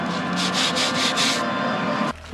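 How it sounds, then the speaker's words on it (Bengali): A motorcycle chain is wiped with a wet rag during a bike wash, giving a close, rhythmic rubbing swish in several quick strokes that ends abruptly. "বাইক ওয়াশের সময় আমি চেষ্টা করি ভেজা ন্যাকড়া দিয়ে চেইনটা একটু ক্লিন করে দিতে"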